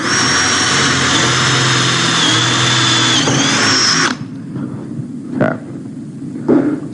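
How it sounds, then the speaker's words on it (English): Cordless power drill boring a hole, its loud, steady motor whine running for about four seconds before stopping abruptly, followed by a few quieter knocks and handling sounds. "Let's drill another hole."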